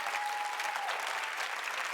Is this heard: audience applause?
yes